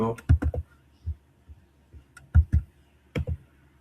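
Keys tapped on a computer keyboard in short clusters of clicks with pauses, close and crisp, while someone speaks quietly.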